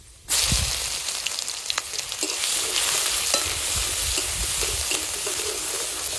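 Dry red chillies, black cumin and crushed garlic hitting hot oil, a sudden loud sizzle that starts abruptly and holds steady with crackling pops throughout, no talk.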